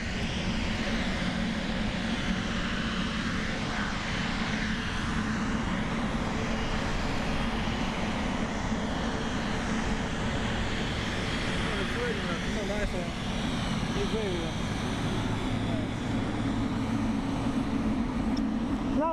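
A Cathay Pacific Airbus A350-1000 jet at Frankfurt airport gives a steady, loud roar of engine noise that holds at an even level for the whole stretch, with a faint voice now and then beneath it.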